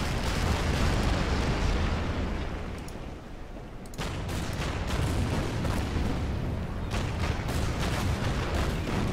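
Units fire in the Order of Battle strategy game during a US Marines battle in the Marshall Islands: a dense, continuous volley of heavy booms and gunfire. It eases briefly, then resumes with a sudden loud burst and keeps pounding, with no voices.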